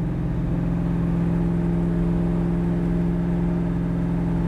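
A 1968 Chevrolet Chevy II Nova with a big-block engine and 4-speed idles steadily nearby, a deep, even rumble with a low throb that holds constant throughout, alone with no voices.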